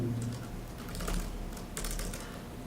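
Quiet, rapid tapping on a computer keyboard in irregular bursts, close but faint, with no speech.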